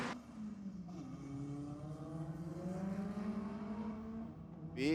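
Mitsubishi Mirage on a night drag run, its engine revving loud and close before a gear change, then pulling hard with a rising, slightly strained tone under no talk.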